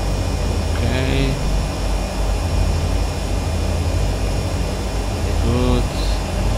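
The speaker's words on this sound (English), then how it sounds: "The turboprop, it's very good." Turboprop engine of a Beechcraft Turbine Duke V2 in a flight simulator, a loud steady droning whine and rumble with brief tonal beeps, under occasional talk.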